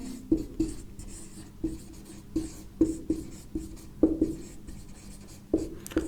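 Chalk or marker strokes on a classroom board during a chemistry lesson, a steady series of short scratchy taps and scrapes at an even rhythm, close and moderately loud with no talking.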